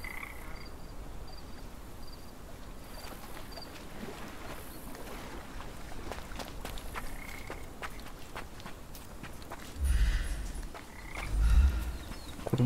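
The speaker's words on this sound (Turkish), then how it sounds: "Kurbağa sesleri var." Frogs croak in a swampy waterside scene of the video game Sherlock Holmes Chapter One, repeated calls over a soft ambient bed, with water splashes and footstep-like thuds growing louder toward the end.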